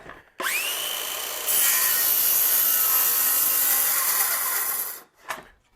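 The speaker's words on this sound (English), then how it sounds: "We'll cut into this plywood here" A circular saw spins up and makes one steady crosscut through a sheet of plywood, a loud high whine with a rough cutting rasp that holds for about four seconds before the blade winds down, followed by a brief thump.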